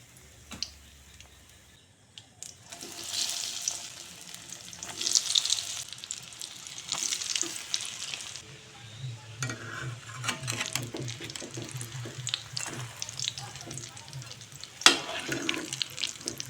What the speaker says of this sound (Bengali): সবগুলি চপ এভাবে ভেজে নিয়েছি